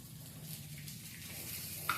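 Drumsticks with shallots sautéing in a pan, a faint steady sizzle with light stirring noises close by, no voices.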